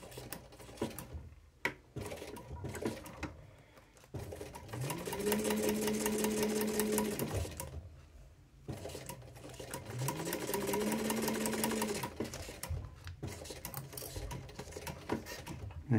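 Sewing machine stitching a zipper pouch, two sustained bursts of rapid mechanical whirring with a rising motor pitch, separated by pauses filled with light handling clicks of fabric.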